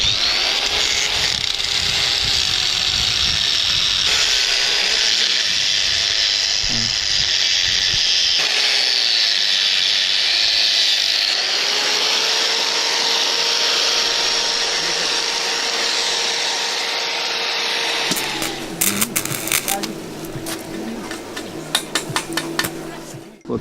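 A loud power tool saws steadily through metal ends for a house roof in the Himalayas. Its whine holds level for about eighteen seconds, then breaks into irregular clatter and knocks as the cutting stops.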